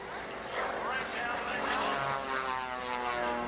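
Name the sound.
Pratt & Whitney propeller airplane engine at air show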